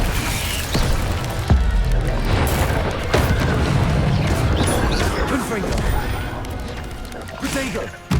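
A Confringo blasting spell goes off during a Hogwarts Legacy combat, with booming blasts and crashing impacts in a dense, loud barrage, set among other spell effects and voices.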